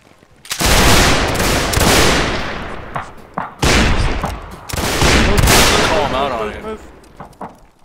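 Gunfire volleys ring out in the multiplayer line-battle game North and South, two long loud bursts of massed musket fire, each trailing off with scattered single shots, close and dominating.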